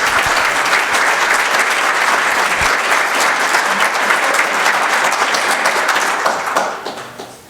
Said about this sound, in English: Can I have a warm applause for this panel?